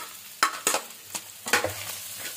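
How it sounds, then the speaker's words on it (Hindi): Chicken frying in a pan with ginger, heard as faint scraping stir strokes and short sizzling bursts in an irregular rhythm at close range. "थोड़ा सा चिकन को मैं इसमें फ्राई कर लूंगी"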